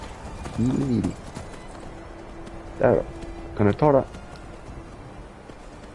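A horse's hooves clip-clop in Skyrim in a few short clusters of steps, close and moderately loud, while someone talks casually over them.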